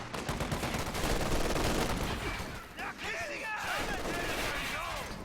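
An M20 armored car fires a machine gun in a strategy video game, a dense rattling burst of shots in the first half that gives way to whistling, chirping battlefield effects, with voices heard alongside.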